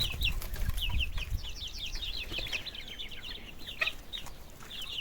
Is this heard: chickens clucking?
yes